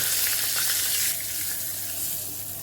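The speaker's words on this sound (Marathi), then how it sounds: "इथं आपण तूप घेतलं आहे, त्यामध्ये थोडीशी मोहरी तडतडली की जिरं आणि थोडासा हिंग" A tempering of mustard seeds, cumin and asafoetida sizzles in hot ghee, a dense, steady crackling hiss heard close up and alone throughout.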